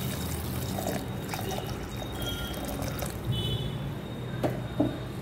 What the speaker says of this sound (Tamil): பருப்பு வேக வச்ச தண்ணியை அதில் விட்டுக்கலாம்.